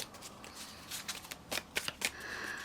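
Playing cards shuffled in a tarot pick-a-card reading, a run of crisp riffling bursts and flicks, moderately close and alone with no talk.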